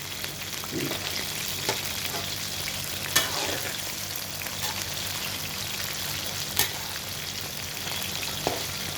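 Pangasius fish fries in hot oil over medium-high heat, with a continuous crackling sizzle and a few sharp clacks as the pieces are flipped over in the pan.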